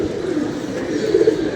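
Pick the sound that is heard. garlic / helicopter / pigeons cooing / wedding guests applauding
pigeons cooing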